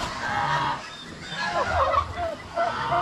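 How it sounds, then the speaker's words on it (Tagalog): Newly hatched turkey chicks with adult fowl nearby, a few scattered honking and gobbling calls rising and falling over a low background, fairly close and moderately loud. "Yan oh, bagong sisiw ng pabo. Kakapisa pa lang."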